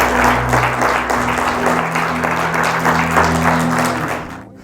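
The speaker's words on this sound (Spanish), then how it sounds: "Fuerte el aplauso al Señor para siempre." A church congregation applauds the Lord, steady full-room clapping continuing for several seconds before trailing off, no speech.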